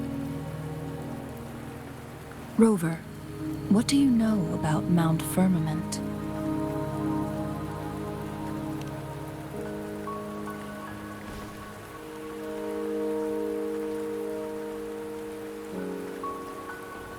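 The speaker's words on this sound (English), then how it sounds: "Don't worry, the rain won't last much longer." Rain falling steadily in the video game Wuthering Waves, a soft, constant patter across the whole scene, with character voices and game tones heard over it.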